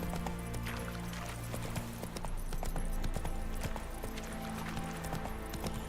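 Horse hooves clip-clop steadily in The Witcher 3 over a continuous game backdrop, a loud even trotting rhythm running the whole time with no talking.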